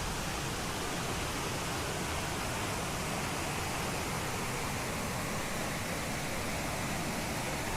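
The mountain valley stream in Myeongji Valley flows with a constant, dense rushing wash, steady and close with no pauses.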